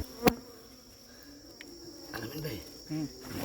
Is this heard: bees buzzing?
yes